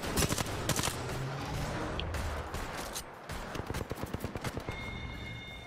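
Rapid bursts of automatic gunfire in the battle royale game Apex Legends, dense crackling volleys with short gaps and a steady stream of shots.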